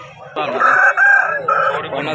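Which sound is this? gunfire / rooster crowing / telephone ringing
rooster crowing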